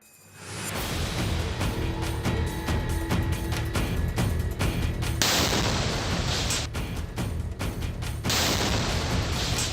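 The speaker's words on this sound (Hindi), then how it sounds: "धमाकों की आवाज से गाजा में खौफ पसरा है।" A dense barrage of loud blasts and booms from wartime explosions in Gaza, repeated bursts of gunfire-like cracks rolling continuously over a rumbling background.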